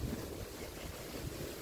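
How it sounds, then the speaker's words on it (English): Wind blows outdoors along a trail and buffets the microphone, a loud, steady, low roar that fills the whole moment with no talk. "It's windy."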